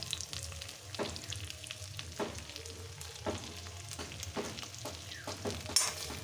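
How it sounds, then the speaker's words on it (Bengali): Slit green chillies and ginger-garlic paste being stirred in a hot pan: a steady sizzle broken by repeated spatula scrapes and knocks at an irregular, fairly brisk rhythm. "এবার আমি ভালো করে নাড়াচাড়া করে নেবো"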